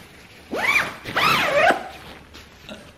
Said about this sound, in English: The bag has also got the anti-snag zips